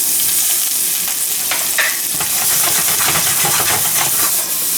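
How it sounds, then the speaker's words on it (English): Mushrooms stir-frying in a little added oil for a Korean-style beef noodle dish, a loud steady sizzle and hiss with light scraping stir strokes, close and continuous without talk. "I'm just going to stir fry that until it's nice light brown"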